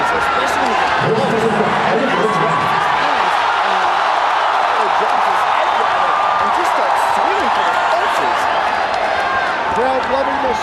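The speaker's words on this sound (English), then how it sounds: "Crowd loving the spinning heel kick there from Bellignon." Arena crowd at a ONE Championship mixed martial arts event roars and cheers steadily throughout, a dense wash of voices heard under a commentator's continuous talking.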